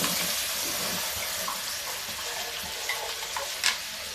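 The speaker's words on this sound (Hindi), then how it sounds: "अब घी में इस पेस्ट को हम डालेंगे और इसको भूनेंगे" Green pumpkin paste frying in ghee for halwa, a steady close sizzle with soft hissing throughout and a couple of light scraping stirs near the end.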